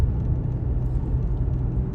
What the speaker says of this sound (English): So we're gonna get up to speed, and not very quick. I'm driving a Toyota.